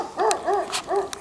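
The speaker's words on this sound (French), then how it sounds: "Il y a un chien" A dog barking outdoors, three distinct mid-pitched barks in quick succession at moderate distance, with no talk over them.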